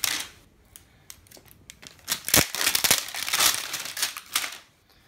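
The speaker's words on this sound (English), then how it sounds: "See if we can get this plastic off here." Plastic wrapping crinkles and tears as it is pulled off a Ubiquiti AmpliFi home router, a run of close, bright rustling bursts that swell in the middle and then stop.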